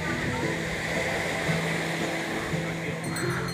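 Sea waves seen from a moving ride along the coast, a steady broad roar of surf blended with wind and a low engine hum, continuous and fairly loud.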